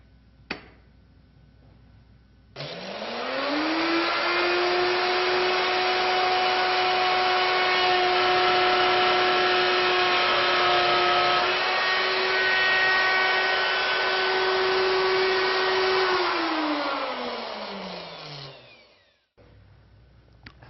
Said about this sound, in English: I'm going to do 6 equally spaced flutes going every 4th hole on the index.